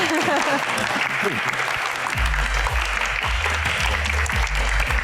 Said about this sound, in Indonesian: Tepuk tangan yang paling meriah untuk bintang tamu kita pada malam hari ini.